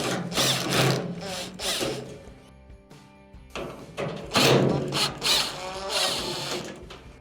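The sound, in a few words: power screwdriver removing Phillips screws on a dryer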